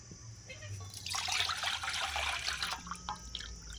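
Water pours out of a freshly opened tender green coconut in a soft, close trickling stream that swells for a couple of seconds and then tapers into drips.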